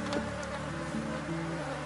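Honey bees buzz steadily around a closed hive during a colony split, a dense continuous hum with no voices over it.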